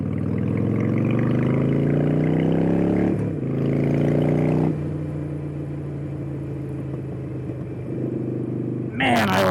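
2014 Harley-Davidson Street Glide on the road, a deep rumbling engine whose pitch rises through acceleration then settles, heard from the rider's position with wind and occasional talk over it.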